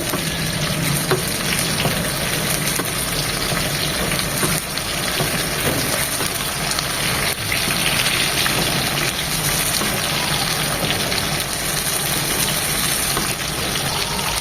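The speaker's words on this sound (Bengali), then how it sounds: "মিনিমাম পাঁচ মিনিট এভাবে ফ্রাই করবো" Tandoori fish frying in a pan over medium-low heat gives off a steady, loud, close sizzle that hisses on without a break, with no talking.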